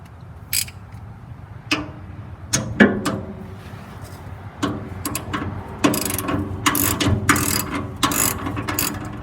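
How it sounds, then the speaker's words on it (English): A ratchet with a 13mm socket works bolts loose on a 60-inch snowblower for a 2023 John Deere 3039R tractor, sounding in close, sharp bursts of rapid clicking separated by short pauses, growing busier toward the end. "So we got to remove all these bolts, and a 13mm socket."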